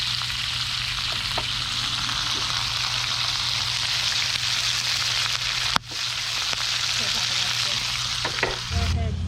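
Pork tenderloin sizzles steadily while cooking outdoors, a constant close frying hiss with small crackles and one sharp knock partway through.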